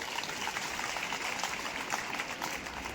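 Sustained audience applause at a speech event at Indira Gandhi PG College in Dumri, a dense steady clapping that fills the whole stretch at an even, moderately loud level with no pauses.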